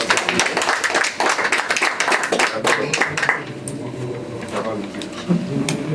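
Clapping at a religious wedding ceremony, a dense run of close, sharp hand claps that thins into scattered claps mixed with voices and room noise.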